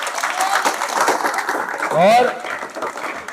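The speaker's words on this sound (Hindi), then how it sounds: "जोरदार ताली।" An audience at a Guru Purnima coaching-centre celebration breaks into applause, a rough clatter of clapping mixed with a voice speaking over it and a brief whistle-like squeal.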